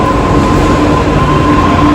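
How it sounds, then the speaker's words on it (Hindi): A metro train arriving at a station, a loud close roar of rolling rail noise with a steady whining tone and faint squeal, continuous and unbroken. "4 साइड का मेट्रो आ गया देखो गाइस"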